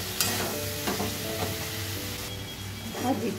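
Ground cumin and other spice powders stirred into tomato frying over a low flame, a soft sizzle with intermittent spoon scrapes against the pan and a faint low hum beneath, close but quiet.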